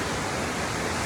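A river and waterfall in the foothills roar in a dense, unbroken wash of rushing water, loud and steady throughout the brief moment, with no voices.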